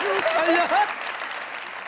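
Brief applause from a studio audience on a comedy show for the mimic Azhar Rangeela, short and close under overlapping talk and laughter that fades out within two seconds.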